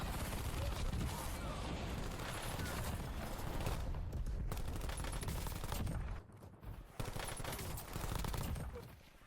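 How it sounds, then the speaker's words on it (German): Rapid submachine gun fire from Call of Duty Warzone gameplay rattles almost continuously in dense bursts, with a brief break near six seconds before the firing resumes. "Und jetzt schau dir diese Waffe im Gameplay an."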